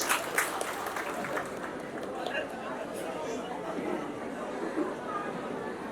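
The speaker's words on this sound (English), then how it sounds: "If you got it, then give me a big clap, please. Round of clap." Round of applause from a crowd at a state-level farmers' convention, scattered clapping mixed with audience chatter and hubbub that continues at a moderate, even level.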